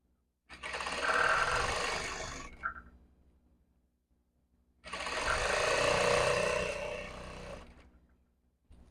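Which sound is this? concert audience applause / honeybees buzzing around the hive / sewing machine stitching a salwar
sewing machine stitching a salwar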